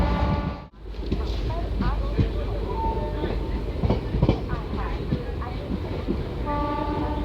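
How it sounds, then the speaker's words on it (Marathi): A train rumbles and clatters close by as it arrives at Pandharpur railway station, with rhythmic clicks of wheels on track, a brief dropout near the start, and a voice faintly in the mix. "आता गाडी पंढरपूर रेल्वे स्टेशनवरती पोहोचणार आहे"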